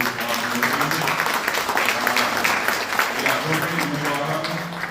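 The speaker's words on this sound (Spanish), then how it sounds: "Quiero pedir un aplauso nuevamente para todos." An audience at a Guarani language and culture athenaeum tribute event applauds in a dense, steady wash of clapping for about five seconds, with faint voices or tones beneath.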